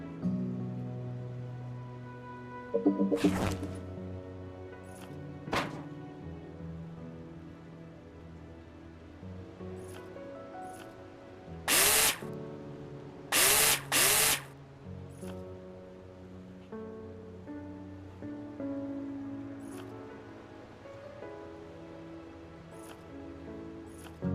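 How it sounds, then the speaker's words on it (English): A power drill in the VR game Builder Simulator drives screws through metal profiles into the ceiling and floor: a few short, loud whirring bursts, one early and a quick cluster later, over steady background music. "place them in the holograms and screw them in with a drill"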